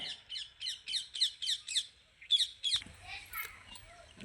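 Birds call in a field where pigeons, herons and a lapwing gather: a run of about ten sharp, evenly spaced squawking calls, fairly close, ending as a broadband noise takes over.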